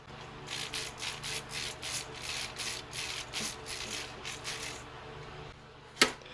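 A LEGO Iron Monger figure's swiveling waist joint is turned back and forth, giving a steady run of about a dozen close, crisp ratcheting clicks, followed by a short pause and one sharper click near the end.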